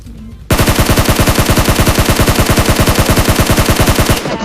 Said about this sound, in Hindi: लेकिन यार तभी आगे वाले घरों से अचानक से गोलियां चलने की आवाज आती हैं